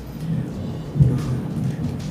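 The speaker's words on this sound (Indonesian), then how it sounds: "Ada guntur." Low, rolling thunder rumbles steadily through the whole stretch, swelling to a louder crack-like peak midway before settling back into a continuous distant grumble, with no talking over it.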